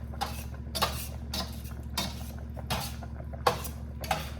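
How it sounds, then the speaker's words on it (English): Spaghetti is stirred in a pot in steady strokes, each bringing a soft clink of utensil against metal, about six in a row over a low background hum. "Alrighty, I'm gonna stir this up."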